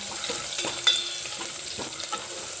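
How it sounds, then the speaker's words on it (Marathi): Crushed garlic, two bay leaves, mustard seeds and cumin fry in hot oil for a Pandharpur-style bazaar amti, a close, steady sizzling hiss with scattered crackles and stirring scrapes, no talking. "खमंग असा लसूण मोहरी आणि जिरं खमंग आपल्याला परतून घ्यायचं आहे तेलामध्ये"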